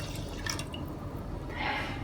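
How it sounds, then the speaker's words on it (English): Coconut milk is poured into a pot of moringa leaf porridge, making a brief, soft close splash and trickle over a steady low background hum, with no talk. "And here I have taken some coconut milk. I'm going to add this in."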